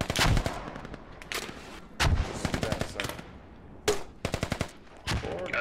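Gunfire from the tactical shooter game Squad: several loud, close bursts of rapid automatic shots, separated by short gaps, with a few single cracks between them.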